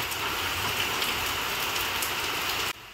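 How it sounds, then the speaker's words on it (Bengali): Steady afternoon rain pours down close by in a dense, even patter on surfaces, continuous and loud, then cuts off abruptly near the end. "বিকেলে ঘুম ভাঙল বৃষ্টির শব্দে"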